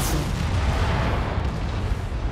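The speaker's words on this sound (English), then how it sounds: "Incoming missile." A missile strike in MechWarrior 5 lands as a continuous roar of heavy explosions and artillery-like booms, loud and close, with a dense low rumble filling the whole moment and no talk.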